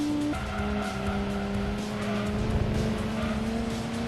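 A Nissan March touring car racing in Gran Turismo 2, its engine droning in a steady high tone with a pitch shift at the start, tire squeal and skidding mixed in throughout.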